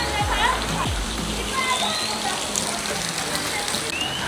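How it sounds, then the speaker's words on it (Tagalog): Outdoor fountain water splashing steadily in a public spot in Kuala Lumpur, a continuous broadband wash that stays even throughout, with a voice talking over it near the start. "Ang sarap ng sound ng water"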